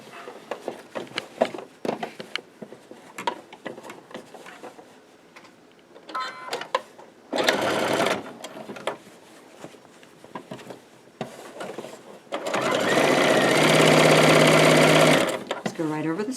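A sewing machine stitches around the edges of a market tote bag and over its straps in two loud, steady runs. Someone talks between the runs and under the quieter stretches.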